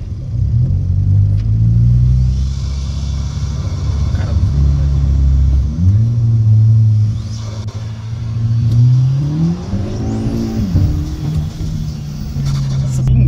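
A Volkswagen Jetta turbo with a flutter valve accelerates hard, heard from inside the car: a loud, deep engine rumble rises and drops through several gear pulls while people talk over it.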